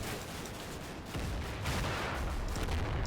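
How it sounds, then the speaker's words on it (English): Muffled, rumbling barrage of air-bursting mortar fire in a war video game, with distant booms and crackling blasts blending into continuous noise that grows heavier partway through. "got some air bursting mortars still falling over there"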